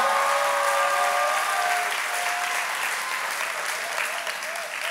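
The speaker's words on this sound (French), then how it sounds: "So give a big clap to the Est-ce Lord." Applause from the audience at a church conference, a dense, steady wash of clapping filling the room, with a few faint whistle-like tones and cheers early on, easing slightly toward the end.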